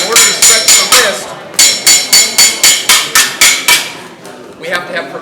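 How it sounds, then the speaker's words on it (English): A hammer strikes metal in two quick, evenly paced runs of ringing blows, loud and close, as a blacksmith stretches the wrist of a piece, with a short pause between runs. "we have to have progressively more and more hammer blows landing out here"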